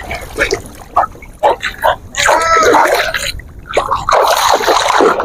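A pitbull puppy thrashes in shallow sea water, giving a burst of splashes and sloshing in the middle, with scattered smaller splashes and a voice talking around it.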